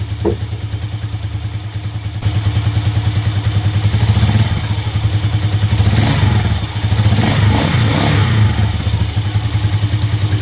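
Rusi TC 150cc motorcycle engine idling steadily just after a valve clearance and tappet screw tune-up, a close, loud, continuous low rumble with rhythmic mechanical clatter and a few small swells in revs.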